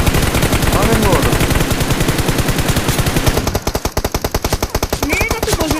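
Rapid automatic gunfire in the mobile battle royale game BGMI sounds as dense bursts of close, sharp shots in a fast steady rhythm, continuing for several seconds with a brief change in texture partway through.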